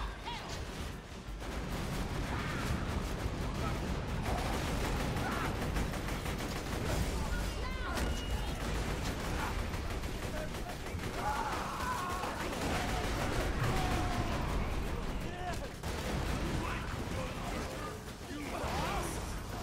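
Turrets firing in the video game Borderlands 2, a dense continuous barrage of gunfire and impacts running throughout, with players talking over the din.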